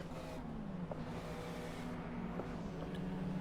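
A steady, droning car engine in the racing game Assetto Corsa at the Nürburgring hums at high revs throughout, sounding strained and monotonous at a constant moderate level.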